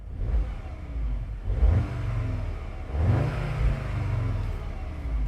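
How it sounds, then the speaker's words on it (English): A 2021 Audi S3 Sportback engine revs up sharply in two throttle blips, each rising in pitch then settling back to a steady idle, close and loud. "I can give the car a few blips on the old throttle."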